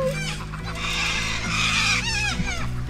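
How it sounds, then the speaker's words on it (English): Swamp hens and ducks gathering to feed at an Australian wildlife spot, a busy chorus of nearby squawks, clucks and honking calls overlapping continuously, loud and close. "So we got swamp hen and the ducks. So they'll come in for a feed too."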